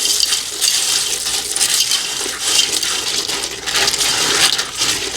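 A spoon scraping and tossing a puppy chow (muddy buddies) mixture around a bowl, loud, close, rhythmic rustling swishes that continue throughout.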